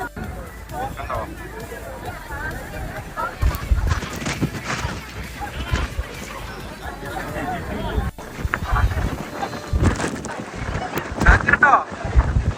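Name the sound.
strong wind at Kanyakumari seaside glass bridge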